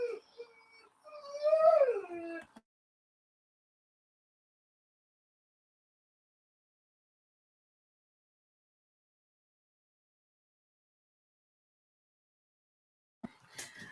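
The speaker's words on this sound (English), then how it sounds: "the dog gets a moaning because she hear me talking and she want me to and want to come in the room" A dog whimpers and moans behind a closed door in a short rising, whining burst, followed by a long stretch of silence and a faint noise at the very end.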